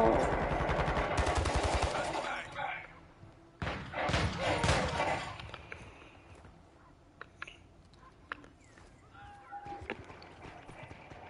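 Rapid bursts of gunfire ring out in an online Call of Duty multiplayer match, with dense volleys at first, then a pause and another heavy burst. Quieter scattered shots and game noise follow.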